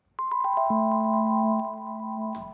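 An electric piano chord strummed upward, its notes entering one after another and ringing together, then a brief noisy burst at the end.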